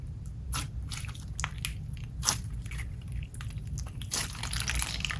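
Store-bought orange slime softened with glycerin is squeezed up close, giving quiet wet squishes and several sharp little bubble pops over a faint steady background hum.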